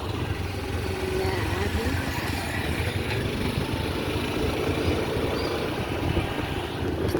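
A motorbike engine droning steadily on a road, with a continuous moderate rumble throughout and faint talk in the background.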